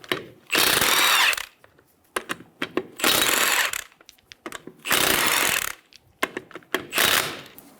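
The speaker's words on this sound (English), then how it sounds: "Using a 19mm socket, remove the 4 lug nuts." A 19mm socket ratchet loosens lug nuts on a 2000-2007 Ford Focus front wheel, giving four loud bursts of rapid clicking ratchet spins with brief knocks and handling noises between them.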